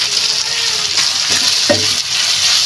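Hotdogs sizzle loudly in oyster sauce in a pan, a dense close frying hiss with a few brief scrapes from stirring, no talking.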